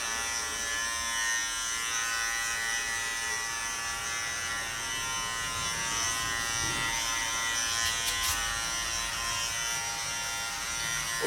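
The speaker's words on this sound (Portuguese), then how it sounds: "Quando percebermos que a máquina já está cortando o pelo, nós vamos flutuar." An electric hair clipper buzzes steadily as it cuts hair during a social-style haircut, a continuous close hum running the whole time with slight shifts as the blade moves through the hair.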